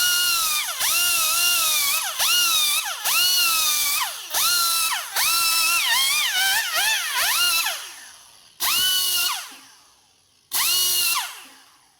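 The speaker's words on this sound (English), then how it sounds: "So we use a less aggressive grinder for that purpose." A less aggressive grinder smooths the cut-down edge of a 1971-76 Harley XL Sportster Ironhead cam cover, whining loudly in close repeated bursts of a second or two with pitch dips as it bites, then longer passes and a final burst.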